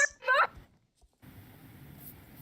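A chicken in the Star Stable horse-riding video game gives a short, loud cluck burst, followed by a pause and then a low ambient game hum.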